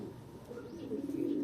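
A racing pigeon coos softly in a low, steady murmur that swells slightly toward the end, close and continuous with no talk.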